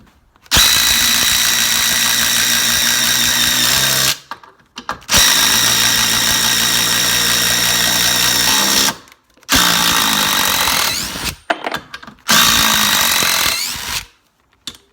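A cordless impact driver whirs loudly in four bursts of several seconds each, separated by short pauses, close up with no talking.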